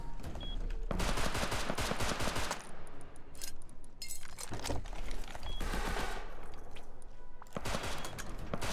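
Sustained automatic gunfire in the online survival game Rust comes in long, dense bursts separated by short pauses, loud and close, with a few clinks between volleys and no talking.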